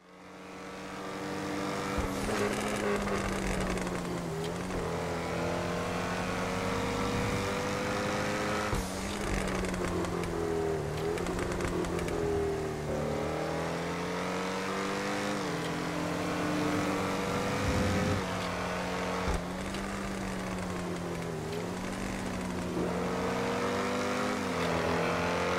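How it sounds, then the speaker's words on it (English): An Ocelot XA-21 supercar engine in the video game GTA 5 Online drones steadily as it drives on a highway, revs swelling and dipping with occasional pops and shifts, loud and continuous with no talking. "I just want you guys to hear this car. It's so unique, it pops, and it just sounds absolutely amazing"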